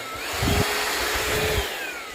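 A Shark VacMop cordless vacuum mop runs close by with a continuous high motor whine and airy rush, a few low thumps briefly breaking through the steady drone.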